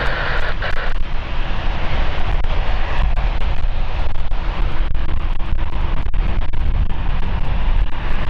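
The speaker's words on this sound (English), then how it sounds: "Look at that Cessna coming in." A Cessna light aircraft comes in to land at London City, its engine a loud, steady drone that holds throughout with a broad rumbling roar and no talk.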